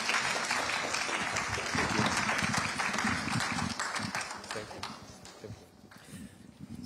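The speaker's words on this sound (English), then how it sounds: "can we give our panelists a round of applause?" A conference audience at a cyber and hybrid warfare event gives a round of applause for the panelists; the clapping is fairly faint and steady, with voices talking over it.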